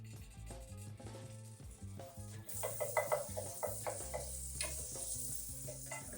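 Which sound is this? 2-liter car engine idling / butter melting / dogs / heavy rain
butter melting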